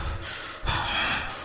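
Unseen supernatural creature in a horror story, heaving in two long, loud, breathy gasps or pants separated by a brief pause, close and harsh, with no talk.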